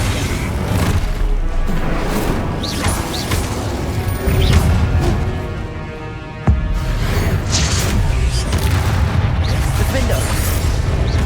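Incendio fire spell bursts in Hogwarts Legacy, a fantasy action game: repeated loud crashing blasts and whooshing flame hits layered over busy combat noise, with one sharp impact partway through.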